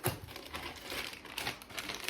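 Plastic packaging of a supermarket toy crinkles and rustles quietly as it is opened, with soft irregular crackles close by and no voices.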